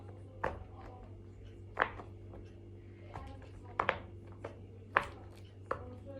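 Sharp, isolated pops of a pop-it toy pressed on a hard surface, about six scattered over several seconds, over a low steady hum.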